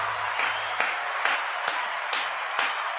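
One person claps hands slowly and evenly, about six sharp, close claps spaced roughly half a second apart over a steady background hum.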